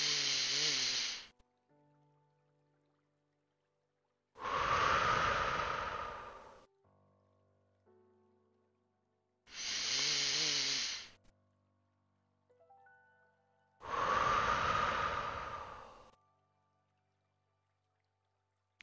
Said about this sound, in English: A breath comes in through our nose. We pause. And then we exhale.